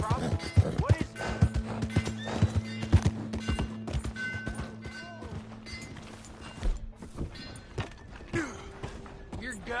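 In a video game, horse hooves clip-clop steadily and a horse neighs loudly and close, while people shout and talk over the commotion.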